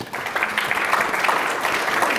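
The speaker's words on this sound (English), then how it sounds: "let's give a round of applause for our panel." An audience claps for a regulatory update panel, a short burst of moderately loud, fairly even applause from a room of people.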